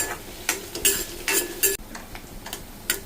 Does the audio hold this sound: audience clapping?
no